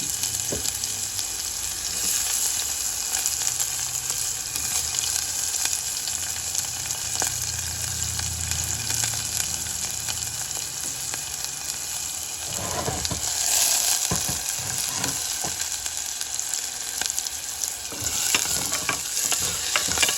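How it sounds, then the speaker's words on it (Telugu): Onions and tempering spices fry in a cooker pot with a steady, close sizzle, broken now and then by brief scraping stirs, with no one talking. "పోపు దినుసులు వేగుతున్నాయి కదా ఆనియన్స్ వేస్తాం"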